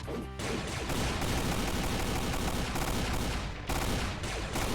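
Dual pistols in the Doom mod Demonsteele fire rapidly in a dense, continuous barrage, loud and close, with short breaks between bursts.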